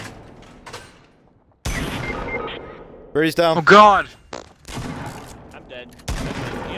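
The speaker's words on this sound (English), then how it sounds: "I hear gunfire." Bursts of gunfire crackle amid game sounds in Fortnite while a voice speaks urgently over the action, with sharp, dense bangs clustered in the middle.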